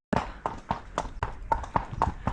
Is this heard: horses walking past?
yes